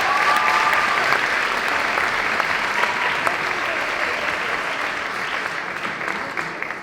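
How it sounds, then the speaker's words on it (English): Sustained audience applause fills a Liverpool festival awards night, a dense wash of clapping that stays steady and loud throughout before easing slightly toward the end. "Give yourselves another round of applause."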